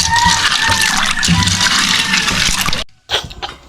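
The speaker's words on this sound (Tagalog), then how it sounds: "Tubig yung aming gripo." Water gushing from a household tap, a loud steady splashing stream that cuts off abruptly near the end before a brief final burst.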